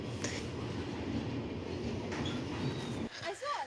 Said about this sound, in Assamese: 15-20 মিনিটমান ৰোৱাৰ পাছত আমাৰ ট্ৰেইনখন আহিছে।